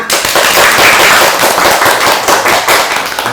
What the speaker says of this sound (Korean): 박수로 마무리를 할까 합니다